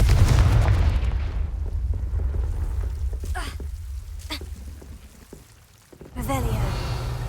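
The Confringo fire spell in the Hogwarts Legacy video game sets off a deep booming explosion with a rumbling low roar that fades and dips, then a second burst swells back up near the end.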